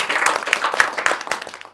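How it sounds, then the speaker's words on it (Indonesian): An audience at an event applauds in a brief, moderately loud burst of scattered clapping that thins out toward the end. "Oke, tepuk tangan dong."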